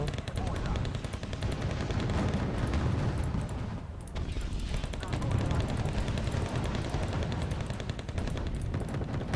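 Sustained gunfire and machine-gun rattle in the military strategy game Wargame: Red Dragon, dense and continuous across the battlefield with a brief lull, while someone talks over it.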